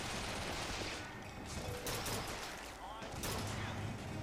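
Rapid gunfire and bursts of shots in Bioshock Infinite's Shantytown level, repeated volleys at moderate level with a voice talking intermittently over the shooting.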